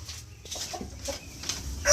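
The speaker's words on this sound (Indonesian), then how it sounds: "Ingat loh, ini ayam kampung, bukan ayam broiler." Free-range village chickens clucking softly in short scattered calls over a low steady background hum, with a louder burst near the end.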